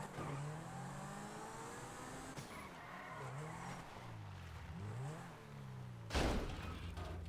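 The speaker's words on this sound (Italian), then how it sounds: "Stanno sparando a motore" Car engines rev and rise in pitch with skidding tyre squeals at an illegal car meet in a video game roleplay, the revs sweeping up and down continuously and a sharp burst near the end, no talking.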